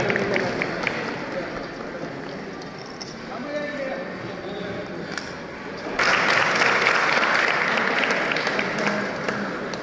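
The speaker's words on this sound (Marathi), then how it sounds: "टाळ्या झाल्या पाहिजे जोरदार या सगळ्यांसाठी" Strong applause from the audience at a school closing ceremony as participants are honoured with roses. The clapping runs dense and continuous throughout and swells noticeably louder partway through, with voices in the crowd underneath.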